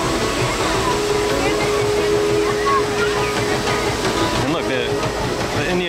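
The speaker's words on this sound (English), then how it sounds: "We get to see it go over the brand new trestle." A Disneyland train rumbles across a newly built wooden trestle over a river, making a loud, continuous rolling roar with a faint whistle-like tone, while people talk over it.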